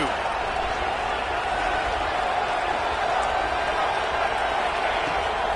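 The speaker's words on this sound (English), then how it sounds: "Listen to this crowd. Absolutely going nuts, trying to will their defense to stop the 2." A stadium crowd at a football game roars in a loud, constant wall of noise as fans urge their defense to make a stop, sustained without pause throughout.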